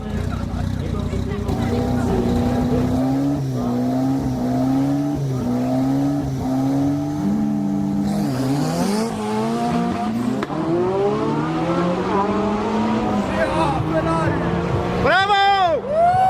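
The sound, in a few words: Skoda 120 L turbocharged 1.3 engine, 240 hp, revving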